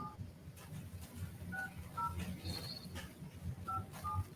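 A telephone keypad sounds several distinct dialing tones, spaced apart as digits are entered during a phone check, with faint murmuring and room noise underneath.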